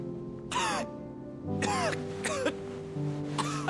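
A character in Final Fantasy XVI gives four harsh, separate coughs spaced about a second apart. Each sounds close and strained over a low, steady musical background.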